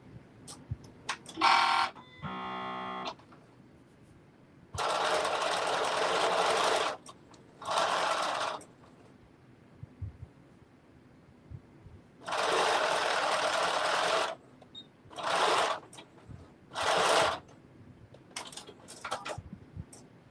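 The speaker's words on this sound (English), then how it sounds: "we are sewing our brim, the outer part of the brim only at this point" A sewing machine stitches the outer brim of a bucket hat, right sides together, in several loud bursts of a few seconds each. Short pauses separate the runs, and a few light clicks and handling noises fall between them.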